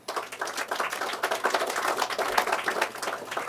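An audience at a groundbreaking ceremony gives a round of applause, a steady, moderately loud patter of many hands clapping throughout.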